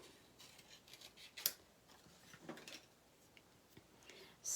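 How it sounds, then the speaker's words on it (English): Scissors snip around a stamped paper image in a fussy-cutting craft session, producing faint, close, sparse little cuts with quiet gaps between them. "now we are going to fussy cut out our little hello there"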